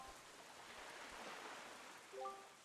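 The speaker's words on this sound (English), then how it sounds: "this place suffers under dark clouds and rain" Steady rain falls on a cursed island in Zelda: Wind Waker, a soft continuous hiss with a few faint low thumps and a brief tonal chime near the end.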